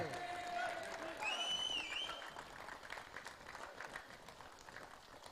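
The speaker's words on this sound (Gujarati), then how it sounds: "જોરદાર તાળી વાગવી પડે ભાઈ વિકાસભાઈ માટે" Crowd applause at the prize ceremony of the Navshakti Mitra Mandal Champions Trophy 2025 cricket tournament in Tardeo, a steady wash of clapping lasting several seconds, with a few whistles early on and a hum of voices underneath.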